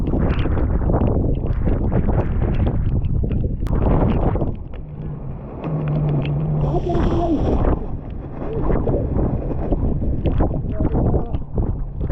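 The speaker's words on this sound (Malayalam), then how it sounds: "ഇവിടുത്തെ അവസ്ഥ എന്ന് പറഞ്ഞാൽ ഒരു രക്ഷയില്ലാത്ത കാറ്റ്" Strong wind on a fog-covered hilltop at Mahabaleshwar, Maharashtra, roars and buffets the microphone in loud, continuous gusts, easing briefly midway, with a faint voice partly buried under it.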